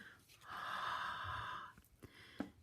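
A single long, soft breath blown close onto a rubber stamp, a quiet steady whoosh lasting about a second, followed by faint small handling taps.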